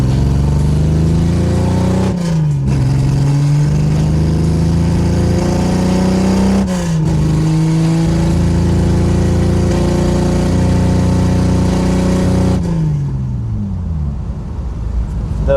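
A 1982 Toyota Celica Supra engine running with fuel pressure breaking up, a loud close rough idle that surges and stumbles twice, then settles into an uneven steady run.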